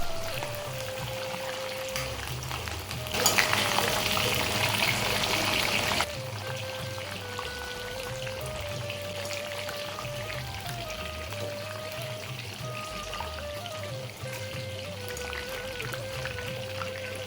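Curry leaves frying in hot oil in a kadai for cauliflower 65: a steady, close hiss and sizzle throughout, with a brief louder crackling burst partway through and faint music underneath.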